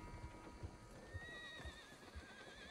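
A horse in the Red Dead Online video game neighs with a rising whinny, while steady clip-clop hoofbeats thud at a regular pace beneath it. The sound is faint and has no talk over it.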